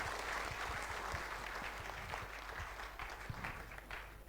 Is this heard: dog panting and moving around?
no